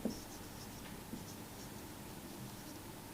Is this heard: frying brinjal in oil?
no